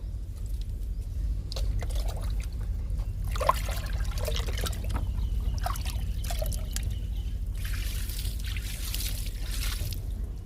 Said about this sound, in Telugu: ఇప్పుడు ఈ మందారానికి లిక్విడ్ ఇచ్చేద్దాము